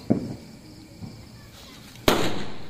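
Diwali firecrackers thrown by hand burst in a few sharp pops: a crack at the start, a smaller one about a second later, then a louder bang followed by a crackling tail, all close by.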